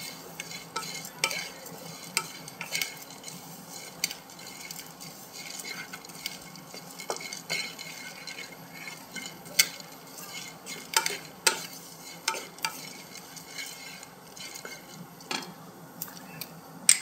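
Garam masala spices are stirred and dry-roasted in a pan with a little oil, giving a steady soft scraping with scattered sharp utensil clinks against the metal and a faint sizzle underneath, close and moderately quiet.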